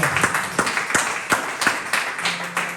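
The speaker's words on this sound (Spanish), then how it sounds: "Vamos a dar un fuerte aplauso." Several sharp claps ring out at an uneven, lively pace in a reverberant church room, loud and close, with no voices over them.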